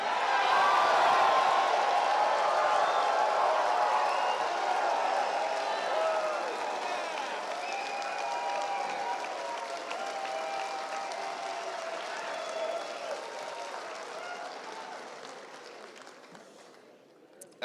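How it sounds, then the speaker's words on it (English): Cheering and applause from a large crowd at a political rally in the nation's capital, a loud sustained roar that swells at the start and slowly tapers over about seventeen seconds. "That always gets the loudest cheer."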